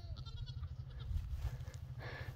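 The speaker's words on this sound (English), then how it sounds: "Little baby goats are just too dang cute." A baby goat on a farm bleats, with a few short quavering cries heard close by over a low background rumble.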